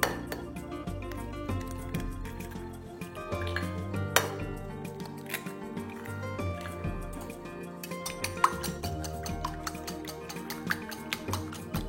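Eggs cracked into a pot of garlic soup broth and whisked in on low heat, busy clinks and taps of utensil against pot and glass, close and irregular, without speech.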